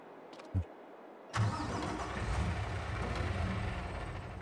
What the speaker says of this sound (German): Um aufzuklappen, muss ich den Motor anmachen.